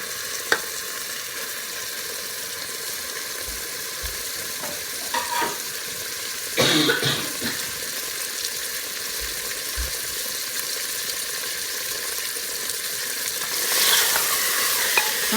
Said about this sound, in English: Now we'll just saute this just for a little bit.